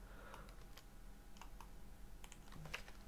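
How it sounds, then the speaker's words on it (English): Keys on a computer keyboard are pressed in a quick, irregular series of soft clicks, faint and close, over a low steady hum with no talking. "just hold Alt and then press down arrow on your keyboard"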